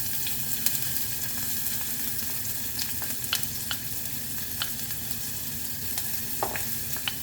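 Onions sautéing in a pan for chicken tinola with sayote, a steady close sizzle with faint scraping and light clicks of stirring throughout.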